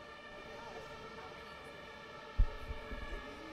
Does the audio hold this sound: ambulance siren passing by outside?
yes